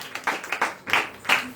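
Church congregation clapping hands at a gospel service, several quick bursts of applause in an uneven rhythm, moderately close.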